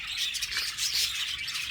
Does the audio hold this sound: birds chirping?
yes